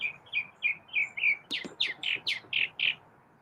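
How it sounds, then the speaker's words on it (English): A bird repeats a bright chirping call about a dozen times in a steady rhythm, close and clear over a quiet outdoor background. "Can you hear the birds?"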